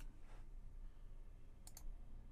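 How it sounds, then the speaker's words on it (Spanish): A computer mouse double-clicks while working in Fusion 360 software, two quick, crisp clicks close together over a faint steady room hiss, with no talking. "Vamos a hacer un doble clic."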